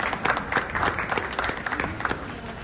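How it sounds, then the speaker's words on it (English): An audience applauds at a secondary school passing out parade, with a sustained, dense wash of clapping from a crowd that holds steady and fairly loud throughout, with no voices over it. "Give yourself a round of applause."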